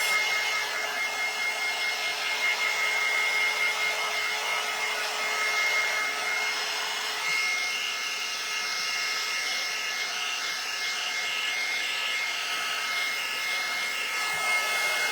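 A hair dryer blows steadily on a craft book being made over with a bees and butterflies theme, a continuous, fairly quiet whir that holds for the whole stretch with no one talking.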